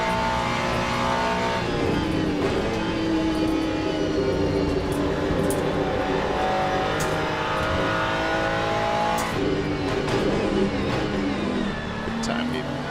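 A Ferrari GT race car engine drones steadily in the Le Mans Ultimate racing game, holding a sustained, loud pitch with shifts and revs throughout while a person talks over it.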